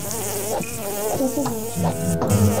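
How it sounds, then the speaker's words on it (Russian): A flying insect buzzes close beside the ear in a cockroach-killing video game, a loud, wavering drone that rises and falls in pitch as it circles, continuous throughout with brief clicks. "Ты жужжишь у меня в правом ухе."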